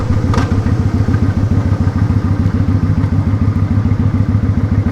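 A motorcycle engine pulses with a loud, close, rhythmic thrum while riding on the freeway, the steady low throb of the exhaust filling the whole stretch with no talk.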